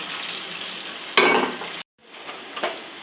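Onions frying with whole spices crackle in a pan with a steady sizzle; a louder burst of spattering stops abruptly into a brief silence, then the softer sizzle returns with a faint clink.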